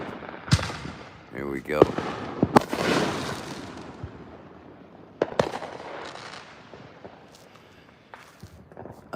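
Fourth of July fireworks set off by neighbours nearby, scattered pops and cracks with one whistling rocket over outdoor rumble, while a person speaks briefly.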